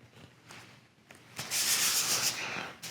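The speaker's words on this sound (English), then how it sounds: "we're going to peel the foam off here and put a bevel on this edge along here and here" A blade peels paper and foam from foam board and bevels the edge of a model plane rudder piece, with soft scraping at first and then a close, sustained rasping cut, no speech.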